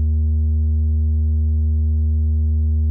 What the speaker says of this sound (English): you can hear a sine wave